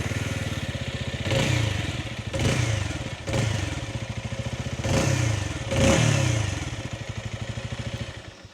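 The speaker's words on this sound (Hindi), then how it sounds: "मैं आपको इसका एग्जॉस्ट नोट सुना देता हूँ।" A 2024 Bajaj Avenger 220 Cruise motorcycle idles nearby with a steady thumping exhaust note, broken by about five short throttle blips that rev it up and settle back.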